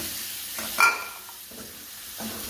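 Chicken pieces hit a hot, dry frying pan, giving a brief sharp sizzle and then soft stirring and scraping sounds close by.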